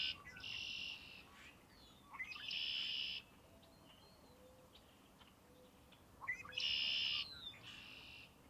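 A red-winged blackbird sings three bright, buzzy song bursts spaced a few seconds apart, fairly close and clear over a quiet, faintly hissing outdoor background.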